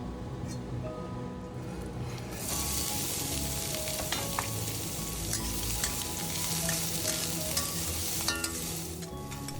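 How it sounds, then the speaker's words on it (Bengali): Chopped onion sizzling and frying in a pan for chicken curry, a steady loud hiss with scraping stir strokes throughout and faint clinks near the end. "পেঁয়াজটা অল্প ভাজা হয়ে গেলে থেতো করে রাখা আদা রসুন গোলমরিচ আর ধনে পাতাটা দিয়ে দিলাম"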